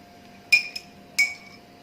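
A spoon clinks twice against a glass while stirring moringa tea sweetened with honey, two close, bright chimes about half a second apart, the first followed by a quick lighter tap, in a quiet room.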